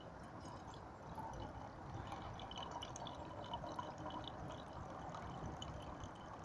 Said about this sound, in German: So, jetzt langsam gießen.